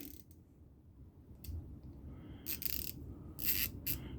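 A broken lock mechanism inside a secondhand hand tool gives off sparse, close mechanical clicks and short rattling bursts over a quiet background.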